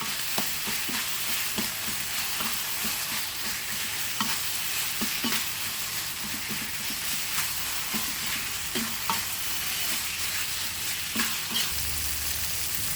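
Minced pork stir-fried in a pan, a steady close sizzle with repeated scraping and clacking of a spatula throughout, alone with no talk.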